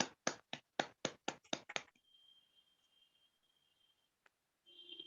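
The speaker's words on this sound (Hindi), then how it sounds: "हम पास्टर केडी तिर्की का तालियों के साथ स्वागत करेंगे।" A short burst of about eight sharp, close hand claps at a church gathering welcoming a pastor, fading into quiet room tone with a faint tone and a single tap afterward.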